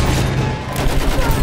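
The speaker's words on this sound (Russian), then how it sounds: "Пулемет! Вражеский!" An enemy machine gun firing in a video game near an armored train, a dense continuous roar of rapid shots that fills the short stretch, loud and close with no pauses.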